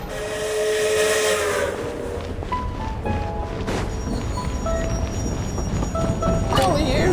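A steam train whistle in a video game sounds as a loud sustained tone early on, over steady hissing steam and rumbling game noise, with further shorter whistle tones near the end.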